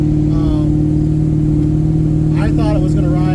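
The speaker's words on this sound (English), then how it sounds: "We'll give it a little launch here." A G-body Chevrolet Malibu on street tires launches with a loud, steady engine drone that rises slightly toward the end.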